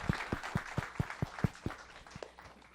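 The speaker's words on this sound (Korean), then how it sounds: "여기 나오신 셰프님들께 큰 박수 부탁드립니다" A small audience at a forum gives the New York chefs a round of applause: distinct, fairly quiet claps in a steady rhythm that thin out and fade after about two seconds.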